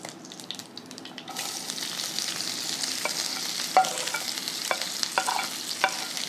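Sliced onions sizzle steadily in hot oil in a pan, with a spoon scraping and stirring through them in intermittent clicks, close and moderately loud with no talking.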